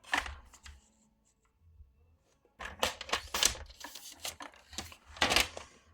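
A strip of paper is cut for a Christmas scrapbooking kit. Crisp, papery crunching bursts come up close, first a short cluster, then a quiet gap, then a longer run of louder rasping strokes.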